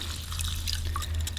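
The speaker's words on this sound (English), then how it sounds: "let's go ahead and add in some tap water. This is just lukewarm tap water," Lukewarm tap water pours steadily over dried snow fungus in a bowl, a continuous close splashing trickle with small drips, no talking.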